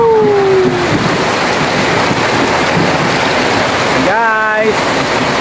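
Heavy rain pours down in a dense, unbroken hiss that lasts throughout, with brief whistling tones cutting through near the start and again toward the end.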